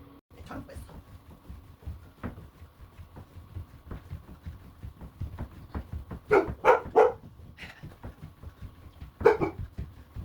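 A dog barks in a few sharp bursts, close by, over a low murmur of background noise.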